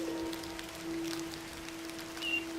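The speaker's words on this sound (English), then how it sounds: "It's raining on me." Steady rain falling in a video game, a soft continuous hiss of drops with a faint sustained tone beneath, alone without talk.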